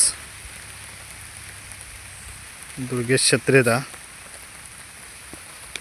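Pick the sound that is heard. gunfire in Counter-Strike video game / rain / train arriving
rain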